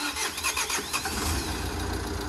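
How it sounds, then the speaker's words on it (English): A crash-damaged 2017 Mercedes Vito van turning over and catching, its engine settling into a steady mid-pitched running rumble, heard up close and alone with no talking. "he's ready to fire it up"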